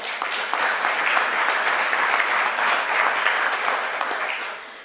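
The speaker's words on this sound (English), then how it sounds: "Please give yourselves a round of applause." A town caucus audience in Sherborn applauding in a meeting hall, a dense continuous roar of clapping that holds steady and then begins to fade at the end.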